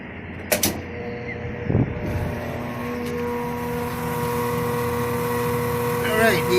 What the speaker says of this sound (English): Alright, yeah, I see the motor working fine.